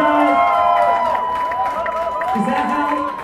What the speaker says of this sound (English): Let's give Z a big round of applause